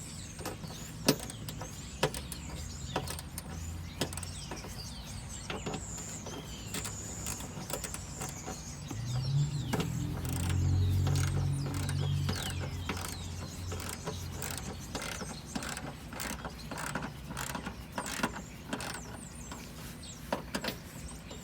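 A ratchet tightens bolts during an oil catch can install on a 2019 Honda Accord Sport 1.5T, a long run of rapid, evenly spaced clicks, close and steady with no talk.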